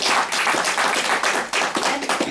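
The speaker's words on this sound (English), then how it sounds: "Let's have a big round of applause for all the" Applause from a Toastmasters meeting audience fills the room, dense and steady claps continuing throughout at close range with no break.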